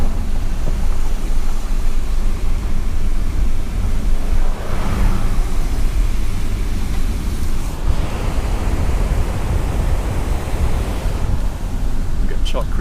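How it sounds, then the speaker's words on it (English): Chalk Creek rushes along beside a forest campground path, a loud, continuous broadband roar of flowing water mixed with wind buffeting on the microphone. "We've got Choc Creek on the right."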